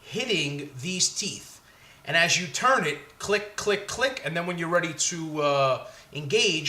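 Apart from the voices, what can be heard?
No distinct noise like a dog, phone or traffic.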